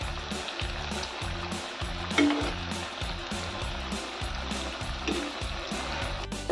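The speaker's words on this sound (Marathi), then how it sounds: "याला छान गोल्डन कलर येईपर्यंत आपल्याला तळून घ्यायची आहे" Spinach (palak) vadi fry in hot oil until golden, with a dense, steady crackling sizzle that stays close and fairly loud throughout. A few light utensil clinks sound over it, and there is no talking.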